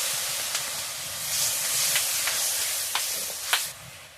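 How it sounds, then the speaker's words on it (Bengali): Water used to rinse ground mustard paste is poured into spices frying with ginger paste for aam patol. It hits the hot pan with a steady loud sizzle and hiss, with a few sharp spits and crackles. "সর্ষে বাটি ধোয়ার জলটা দিয়ে দেবো"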